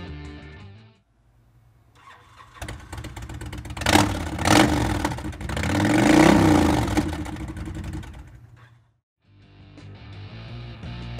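A 2007 Honda VTX1300C motorcycle with Vance & Hines exhaust starts up and revs, its V-twin rumble climbing in two loud swells before idling back down and cutting off, heard close with no talking.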